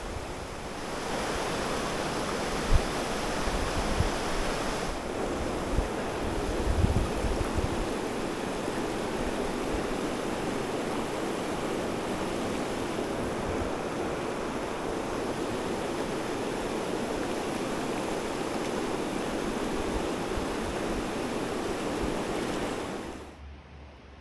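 Montmorency River flowing near Sainte-Brigitte-de-Laval, a steady broad rushing of water that stays loud and even for about twenty-three seconds before cutting off abruptly.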